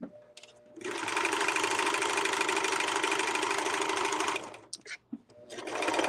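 A serger sewing machine runs steadily for several seconds while sewing off a thread chain, a loud close rapid buzz. It then stops with a few short bursts and starts up again at the end.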